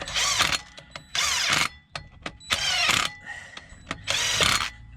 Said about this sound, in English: I'm just going to kind of get them nipped up with a gun and get the flywheel on